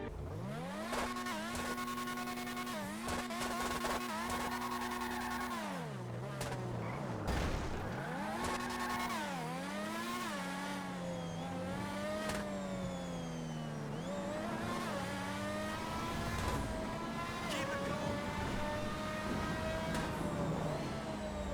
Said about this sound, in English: It definitely sounds more like an F1 car than most cars in GTA.